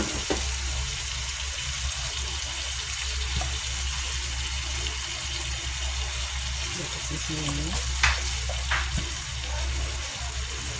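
Chicken and onion sauté in a pan for a chicken curry, giving a steady, even sizzle that runs throughout at close range.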